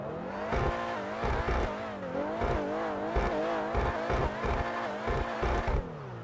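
A supercar engine in the video game GTA 5 Online revs repeatedly, pitch climbing and dropping through gear shifts, with brief bursts between shifts; fairly close and steady.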